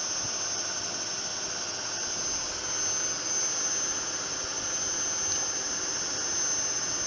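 A Zanussi Electrolux ZWF 1432 washing machine, a 1400-spin model, spins at high speed with a steady whining roar and constant hiss, loud and unbroken throughout with no voices.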